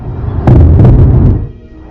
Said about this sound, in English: Ukraine woke to explosions around the capital, Kiev.